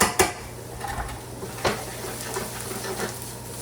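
Chopped garlic tossed into a hot pan with onions, giving a couple of sharp metallic clinks and a soft, low sizzle close by, with no talking.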